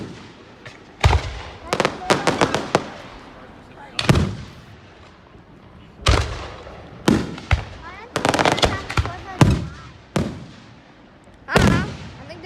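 Grand finale fireworks at Niagara Active Hose Co, loud booming bursts in clusters and single blasts with crackling tails, heard from nearby while people talk between the explosions.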